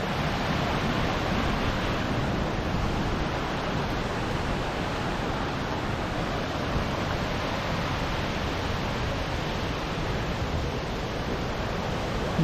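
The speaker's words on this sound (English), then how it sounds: "You can hear that lovely rushing of the water." A waterfall pours through the Wood of Cree, its water rushing in a steady, even broadband roar that holds without change throughout, moderately loud and with no voices.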